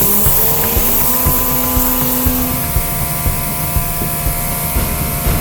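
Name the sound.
pressure washer spraying a Tesla Model Y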